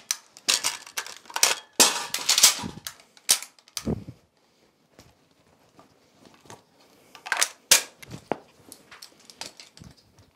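Sharp, fairly quiet cracks and mechanical clacks from an Stgw. 57 rifle firing at infantry, in irregular clusters with gaps of near silence, the shots sounding thin and distant.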